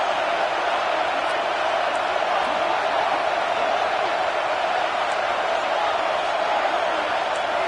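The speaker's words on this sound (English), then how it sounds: "here comes the noise. This crowd is trying to inspire this defense to make a big red zone stop" A football stadium crowd roars steadily to rally the home defense before a red zone play, a dense, continuous wall of cheering and noise with no break throughout.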